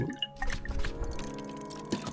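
Water poured into a drinking glass, a short close trickle and splash with soft dripping and gurgling, fairly quiet, with no talking.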